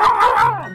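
A short synthetic dog bark and yip from a Minecraft game, a single clear, fairly loud call with a falling whine at the end.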